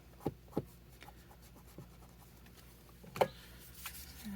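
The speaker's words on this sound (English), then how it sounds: "We'll go in and we'll erase this heart as well." Eraser rubbing out a pencil heart on a journal page, faint scratchy rubbing strokes with a few sharper taps, quiet and close, no talking.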